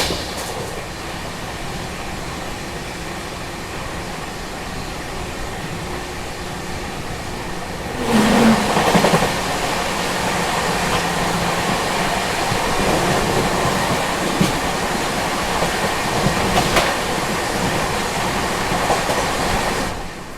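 The Swarna Jayanti Express passes on Indian railway track at Pachora, a steady rumbling roar that swells suddenly about eight seconds in and continues loud with rhythmic clatter of coaches, without voices.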